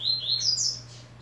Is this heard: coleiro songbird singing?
yes